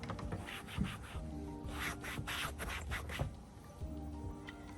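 A microfiber cloth buffing exterior plastic trim on a vehicle, making soft, repeated rubbing and swishing strokes in an uneven rhythm, close but quiet.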